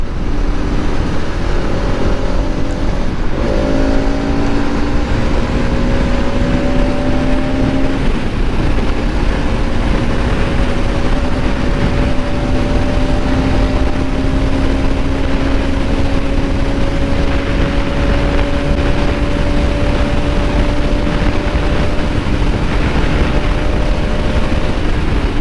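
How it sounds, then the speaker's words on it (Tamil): A 2025 Bajaj Pulsar RS 200 motorcycle runs with a steady droning engine and exhaust note that dips briefly, then climbs slowly and evenly in pitch, sustained and close with no talk. "அந்த எக்ஸாஸ்ட் நோட்டை கேளுங்க."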